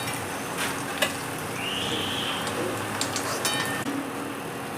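Potato pieces frying in hot oil for a home-style chicken biryani give a steady, soft sizzle with a few sharp clicks and stirring taps, fairly faint and close.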